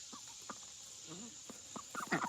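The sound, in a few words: ducks chattering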